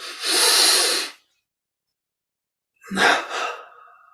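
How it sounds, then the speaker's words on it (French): One long, forceful breath drawn in through the nostrils during a yoga breathing exercise, then after a silent pause a sharp double-stepped breath, loud and close with no talk. "Puis on prend une double inspiration par les narines"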